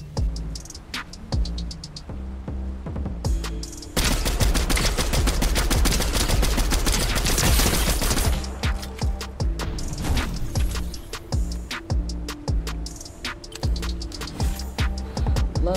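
Gunfire in the Fortnite video game during a Zero Builds match: rapid bursts of automatic fire and repeated sharp shots, loud and close, swelling into a dense barrage midway before breaking into scattered volleys, with no talking.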